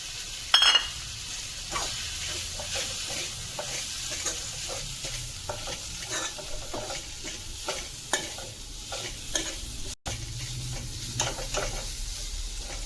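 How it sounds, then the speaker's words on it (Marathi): Dry grated coconut masala with garlic, onion and tomato is roasted and stirred in a pan for tuna fish curry, giving a steady sizzle under repeated scraping strokes of a spoon, with no one talking. "तर इकडे आपलं वाटण भाजून मस्तपैकी घेतलंय."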